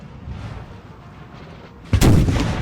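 Artillery fire in a Napoleon Total War battle: distant low rumbling booms, then a loud close cannon blast that rolls on in a heavy roar, with no voices.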